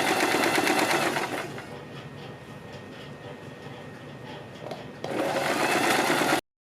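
A sewing machine whirs loudly and steadily as it stitches a row on a boat-neck kurti, slows to a softer rattle in the middle, then speeds up again before stopping abruptly.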